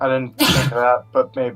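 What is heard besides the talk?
sneeze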